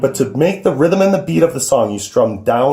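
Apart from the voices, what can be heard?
None of the usual background noises is heard.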